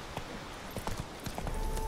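Horse hooves clip-clopping in The Witcher 3, a steady run of soft, fairly close hoof strikes over a busy game soundscape.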